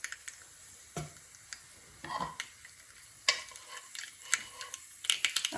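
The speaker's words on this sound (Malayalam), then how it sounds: "നമ്മൾ കടുക് ഇടുവാണ്." Mustard seeds hit hot coconut oil in a pan and crackle and sizzle, with scattered sharp pops spread irregularly across a quiet, steady frying hiss, with no voices.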